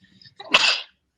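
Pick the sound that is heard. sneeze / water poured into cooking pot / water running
sneeze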